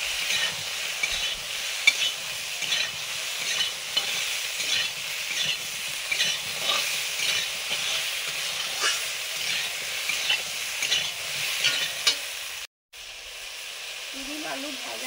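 Potatoes fry with sugar in a pan, giving a steady close sizzle with repeated stirring scrapes. The sound runs throughout and cuts out briefly near the end.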